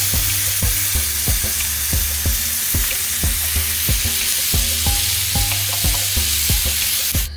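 Porterhouse steaks sear loudly over a charcoal grill in a reverse sear, a dense continuous sizzle and crackle with rhythmic scraping taps running throughout and no voices.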